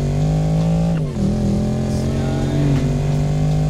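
A Mercedes G63 engine and exhaust in the Need for Speed Payback video game hum with a steady, fairly quiet drone, and the pitch dips briefly and then settles again.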